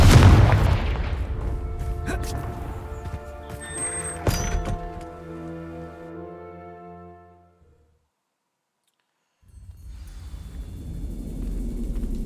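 A Confringo spell blast in Hogwarts Legacy, a loud booming explosion with a few sharp cracks and a long ringing decay fading to silence, then rumbling background returns.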